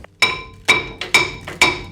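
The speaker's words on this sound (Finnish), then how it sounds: "Vähän vasaraa." Four sharp metallic hammer blows ring out at steady half-second intervals against a car's brake disc, each strike bright and clanging with a short ringing decay, close and loud with no talk.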